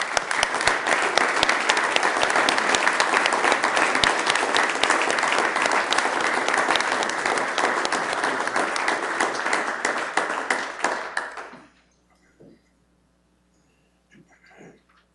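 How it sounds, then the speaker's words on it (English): Council meeting attendees give an award winner a long, loud round of applause, dense clapping that holds steady for about eleven seconds before stopping abruptly, followed by quiet room noise and a faint voice. "let's give her a round of applause, please"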